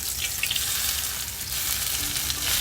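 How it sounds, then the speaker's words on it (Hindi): Hot oil sizzles steadily as a tempering is made for green garlic egg keema, a dense close crackle with small pops and no voices. "इनमें ऑयल को गरम किया और अपने इसको तड़का लगाना है।"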